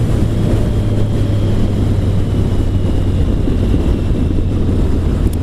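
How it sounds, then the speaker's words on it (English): Triumph Sprint GT 1050 motorcycle fitted with a Scorpion Serket exhaust, a loud, close, low rumbling burble that holds steady throughout with some wind buffeting on the microphone. "And the best bit's the burble"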